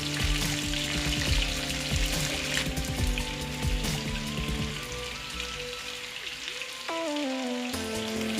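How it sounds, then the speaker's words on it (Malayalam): Chicken 65 deep-frying in hot oil makes a steady bubbling sizzle that runs throughout. It sits under background music, with no one talking. "ഇനി നമുക്ക് തിരിച്ചിട്ട് ആ ഭാഗം കൂടി ഫ്രൈ ചെയ്തെടുക്കാം."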